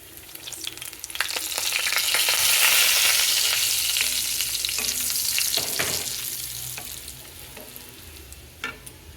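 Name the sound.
white sesame seeds and dried chilli frying in oil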